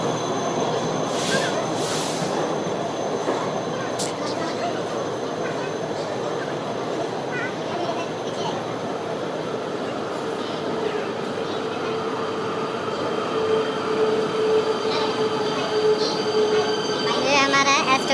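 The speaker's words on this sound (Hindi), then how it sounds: "हमारी ट्रेन आ चुकी है भाई साहब" A passenger train arriving at a station platform on a Ludhiana to Muzaffarnagar route, heard as a steady rumble with squealing wheels and clicking rail joints, growing slightly louder toward the end, with voices in the background.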